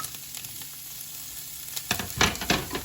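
Asparagus sautéing in a hot pan gives a steady close sizzle, and after about two seconds it breaks into louder crackling bursts as the spears settle and are moved around.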